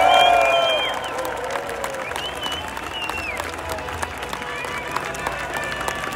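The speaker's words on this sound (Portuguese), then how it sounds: "uma salva de palmas para Elon Musk" Crowd applause for Elon Musk at a Brazilian political gathering, continuous clapping mixed with cheers and whistles and a loud shout at the start, filling the whole stretch.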